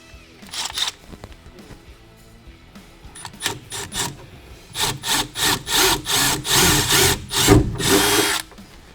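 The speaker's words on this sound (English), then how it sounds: "So we're going to drill a small hole here." A power drill whines in short bursts, then runs in a string of repeated pulses close by, drilling a small hole into a pickup truck bed without any talk.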